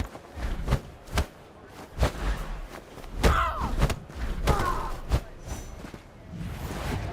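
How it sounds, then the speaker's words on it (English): Repeated slap attacks land in the fighting video game Absolver as a string of dull thumps and slaps with short whooshing swings between them, steady and fairly punchy against a low background. "So now if I attack, I'm going to give him a little slap and keep on attacking."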